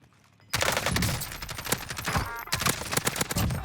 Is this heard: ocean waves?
no